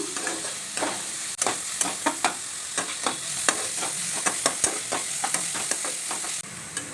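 Tomato rice sizzles and fries in a pan while a utensil stirs it, giving a steady hiss broken by frequent sharp scraping clicks at an irregular rhythm, close and fairly loud.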